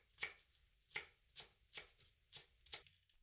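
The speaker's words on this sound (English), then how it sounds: "Mince one spring onion." Knife mincing spring onion on a board, six crisp, evenly spaced chops close by and quiet, with silence between strokes.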